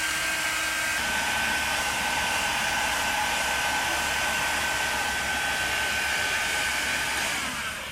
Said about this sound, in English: here is heating up this black Polyline with a heat gun